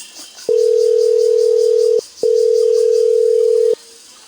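Two long, steady electronic ringback tones, each about one and a half seconds with a short gap between, from an unanswered phone call, loud and clear over faint background hiss.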